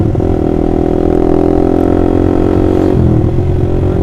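A Honda CBR150R motorcycle fitted with an Austin Racing aftermarket exhaust from Purbalingga revs up close and loud, holding a steady, throaty drone before the pitch briefly shifts near the end.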